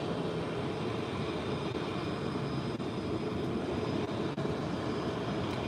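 A British Airways long-haul airliner on arrival after a flight of nearly ten hours from the UK, heard as a steady, loud, broadband engine roar that holds without a break throughout.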